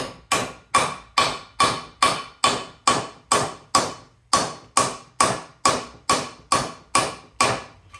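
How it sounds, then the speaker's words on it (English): Valve seals on a 5.7 Hemi engine are driven onto the cylinder head with a hammer in a steady run of about fifteen sharp metallic blows, evenly spaced and close, with no talk. "That's why after I hammer them,"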